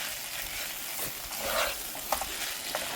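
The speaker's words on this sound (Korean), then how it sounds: "고슬고슬하게 주걱으로 이렇게 살살 펴준다는 느낌으로 타지 않게 볶아주세요" Quiet sizzling in a hot pan as bacon kimchi fried rice is stirred and scraped with a spatula, with a few soft clicks.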